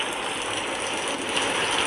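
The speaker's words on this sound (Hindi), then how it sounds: "बहुत तेज बारिश हो रही थी।" Torrential rain falls as a steady, bright hiss, a dense unbroken wash of drops that builds a little near the end, with no voices over it.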